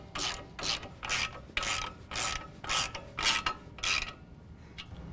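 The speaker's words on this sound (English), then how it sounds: "I'm just going to snug up the 2 bolts for the strut mount lower location." A ratchet wrench snugs up the lower strut mount bolts on a 2015-17 Ford F-150 4WD during a lift kit install: eight or nine quick, evenly spaced rasping clicks, close and fairly loud, followed by a couple of faint ticks.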